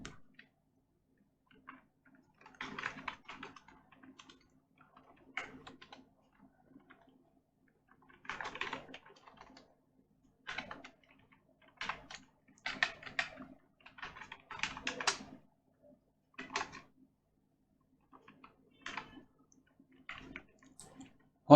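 Typing a C program loop on a computer keyboard, with bursts of quick, light key taps broken by short pauses, close by and fairly quiet, with no voices.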